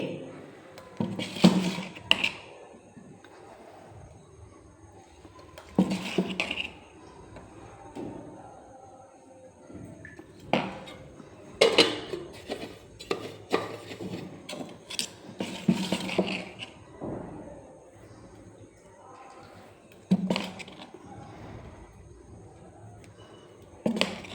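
Metal idli plates and a pot clank and scrape on a kitchen stove while idli are being cooked, sharp metallic knocks and rattles coming in scattered bursts several seconds apart, close by.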